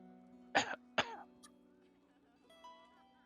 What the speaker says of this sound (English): You hear him cough a little bit.